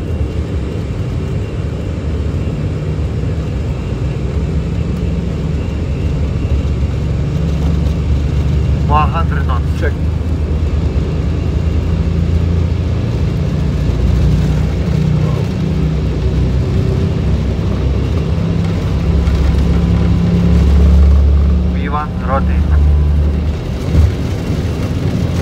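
A steady, loud broadband roar from the jet engines of an Airbus A320 spooled up to takeoff thrust, heard from the cockpit, with brief crew voices and faint clicks over it.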